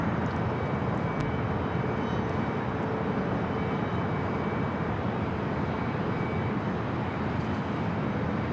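A jet airliner roars on takeoff from runway 24 left at LAX, a steady, loud broadband engine rush that holds evenly throughout with no voices.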